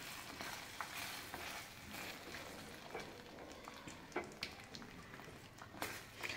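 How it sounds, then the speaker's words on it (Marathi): Cashew masala curry stirred in a pan over medium heat, with a continuous wet scraping and squelching and a soft sizzle, close and steady with small louder scrapes. "पुन्हा एकदा व्यवस्थित मिक्स करूया."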